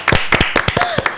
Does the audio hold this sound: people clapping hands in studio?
yes